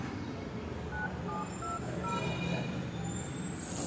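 A telephone dials a number: a quick run of short, evenly spaced keypad beeps, faint and close, over a steady rumble of road traffic.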